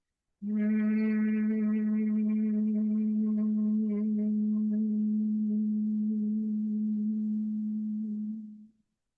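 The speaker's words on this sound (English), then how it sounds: "Exhale with a hum." A person hums a single steady, sustained note on a long exhale during gentle yoga breathing, rich and resonant, held for about eight seconds before fading out, with no other voices or sounds.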